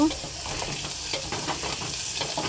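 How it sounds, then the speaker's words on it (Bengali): Cut potatoes and spices for mutton kosha sauté in a hot pan with a continuous close sizzle and faint scraping stirs. "অ্যাড করে দেবো হালকা কষে নেব"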